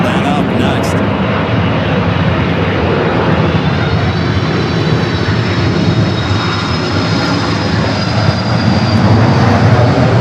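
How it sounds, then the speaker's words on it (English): A Delta Boeing 767-300ER jet airliner roars steadily nearby at LAX, a loud continuous engine rumble and whine with people talking over it. "The Delta 767 at 300ER coming from Atlanta up next."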